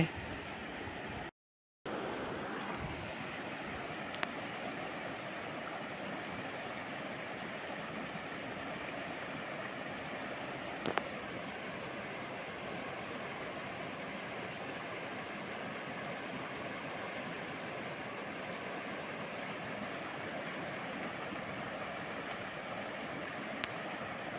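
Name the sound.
strongly flowing water stream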